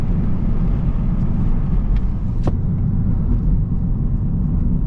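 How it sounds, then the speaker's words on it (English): A Honda Civic Type R FL5 with the front resonator deleted and a Honda tune drones steadily while cruising, a loud, even low rumble that fills the whole stretch without breaks. "So I deleted my front resonator, and then with the Honda tune, it literally sounds just like a Type S"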